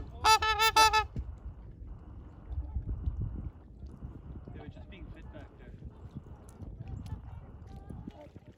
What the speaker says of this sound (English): we're approaching those noisy swans and ducks